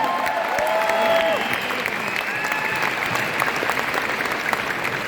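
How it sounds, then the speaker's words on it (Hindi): An audience at an award function applauds loudly, a dense burst of clapping from a crowd that carries on with a few cheers mixed in. "मैं चाहूंगा एक बार जोरदार तालियां"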